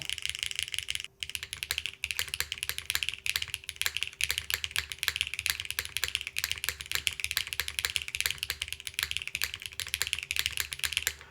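Continuous fast typing on a 65% mechanical keyboard fitted with new keycaps and an HMX-style space bar, a dense, bright, clacky patter of keystrokes heard up close with no voices.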